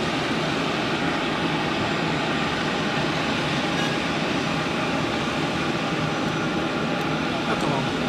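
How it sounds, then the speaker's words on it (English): An EasyJet airliner at Zurich Airport produces a steady, loud broadband jet engine roar that stays constant throughout, with a few faint higher noises over it. "let's take a look at this EasyJet in the meantime"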